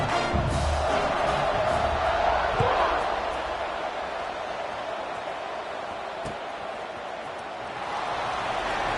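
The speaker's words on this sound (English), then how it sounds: "this crowd is feeling themselves after that last drive" Dense stadium crowd roar from a college football video game, a steady loud wash of cheering that swells slightly in the first seconds, eases, then rises again near the end.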